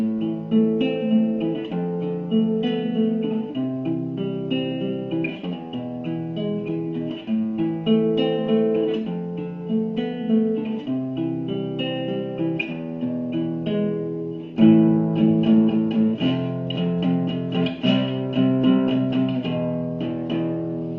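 A clean guitar picks out a repeating arpeggio pattern, steady and melodic, playing alone for about twenty seconds with a brief accent midway.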